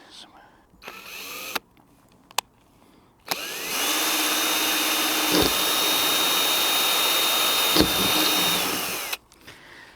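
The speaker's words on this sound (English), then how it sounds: "I'm going to drill a pilot hole first." After a few quiet moments with small clicks, a power drill whirs steadily for about six seconds at high speed drilling a pilot hole in a caravan, then stops.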